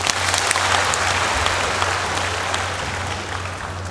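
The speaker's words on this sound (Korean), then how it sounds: "박수 한번 쳐주십시오" An audience at the Istanbul in Gyeongju 2014 opening ceremony bursts into full, sustained applause, a dense even wash of clapping that fades slightly toward the end.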